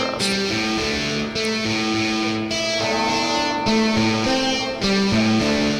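Synthesized guitar parts from a Soundfont Pro synth in GarageBand on iPhone play a steady, loud chordal pattern with repeated plucked notes and shifting bass tones throughout, without pauses.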